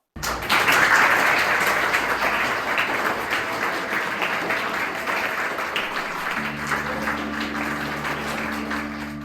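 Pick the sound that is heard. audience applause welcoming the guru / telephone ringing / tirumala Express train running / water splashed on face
audience applause welcoming the guru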